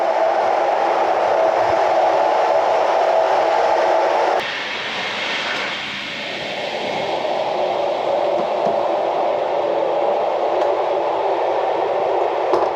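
A loud, continuous roar fills a FlixTrain carriage travelling from Berlin to Basel, briefly shifting and dipping in tone partway through before returning to the steady drone; no one speaks.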